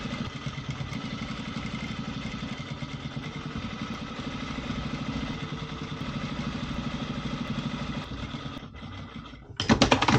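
Sewing machine top stitching a seam on a waterproof softshell jacket, a steady fast rhythmic clatter running continuously before stopping, followed by a brief louder burst of handling noise at the end.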